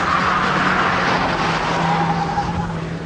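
A saloon car is driven hard around a handling test circuit, its engine droning steadily up close with tires squealing throughout, no voices.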